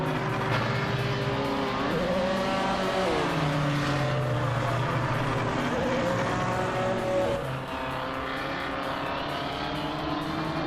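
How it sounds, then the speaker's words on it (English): A 1964 Abarth 850TC Corsa race car in a racing video game drones steadily throughout, its engine pitch rising and shifting with gear changes, other cars' engines layered underneath, loud and continuous with no talk. "Dr. Monkey 13 is driving a 1964 Abarth 850T C Corsa."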